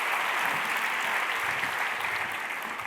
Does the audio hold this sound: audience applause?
yes